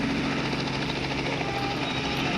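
Helicopter overhead, a steady loud rotor and engine drone with faint rhythmic chop, continuous and close.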